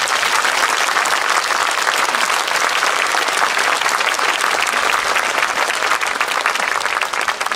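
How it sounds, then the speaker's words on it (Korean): Sustained, loud and dense clapping from a large audience at a public lecture in Bongha Village, an even wash of applause with no voices over it. "여러분 박수 한번 보내주시죠."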